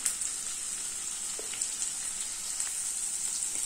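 Onion and green chillies frying in a couple of spoons of oil with a little turmeric, giving a steady, soft sizzle with faint crackles throughout, close and alone with no talk.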